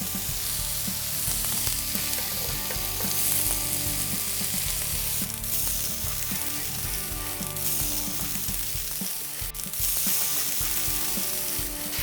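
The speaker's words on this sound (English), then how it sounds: "Let's go ahead and put those veggies in the pan as well." Vegetables for fajitas sizzle steadily in a hot frying pan, a dense continuous crackle with occasional stirring, close and alone without talk.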